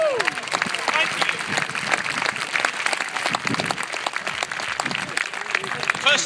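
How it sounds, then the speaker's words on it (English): Applause from a conference audience fills the room with dense, continuous clapping, mixed with scattered cheers and voices calling out. "Please give yourselves all a round of applause just for being here, please"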